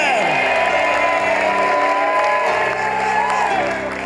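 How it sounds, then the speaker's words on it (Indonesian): Studio audience on the Family 100 game show applauds and cheers over music, a loud continuous crowd wash with a few whoops, while a voice carries on over the top. "Tepuk tangan dong untuk semuanya"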